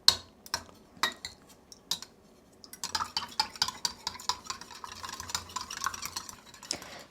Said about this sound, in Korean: 이제 젓가락으로 달걀을 섞어줘요.